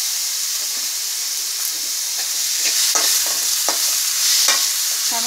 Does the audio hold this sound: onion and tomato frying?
yes